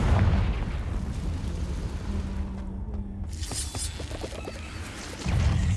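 Confringo blasting spell in Hogwarts Legacy: a rumbling, crackling blast with shattering debris that fades into a low roar, then a fresh heavy burst near the end.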